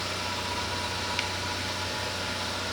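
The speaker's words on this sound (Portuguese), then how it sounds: "E tá aqui o motor trabalhando bonitinho." A Ford Fiesta with a Zetec engine idles steadily, giving a constant, even hum with faint mechanical noise and no pronounced knocking, heard alone with no talking.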